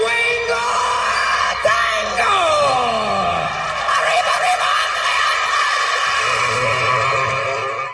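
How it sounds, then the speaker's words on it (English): Ted Nugent screaming in a long, loud, raw yell that bends and slides downward, sustained over dense noise, with no talking. "Ted is also known for screaming."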